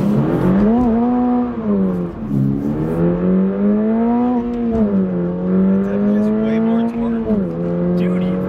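Strong in-car engine note climbing through the gears under hard acceleration, pitch rising in several sweeps with brief dips at each shift, loud and close throughout; a voice is faintly present beneath.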